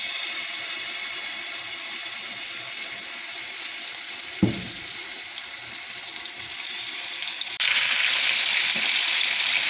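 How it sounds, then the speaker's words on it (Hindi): Pieces of chicken sizzle in about three tablespoons of hot oil in a pan for an Afghani chicken karahi, a steady close crackle with a sharp clatter midway as more drops in and the frying intensifies. "ऑयल गर्म हो चुका हुआ है, अब हम इसमें चिकन ऐड कर लेंगे।"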